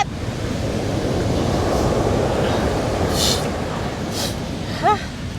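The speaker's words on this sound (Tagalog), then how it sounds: "Ingay ng dagat!" Steady broadband roar of sea surf at Red Rocks Reserve on the New Zealand coast, continuous and fairly loud throughout, with a brief chirp near the end.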